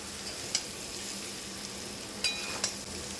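Mango pieces for pickle, sun-dried and lightly fried in a pan, with a soft steady sizzle and a few sharp clicks of stirring against the pan.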